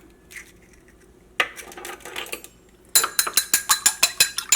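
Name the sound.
mixing ingredients in a bowl for chicken 65 fried rice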